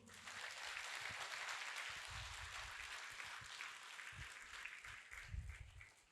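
A crowd at a rally claps in a sustained, dense burst of applause that carries on for several seconds, heard at a distance and fairly faint, with some low rumbling underneath.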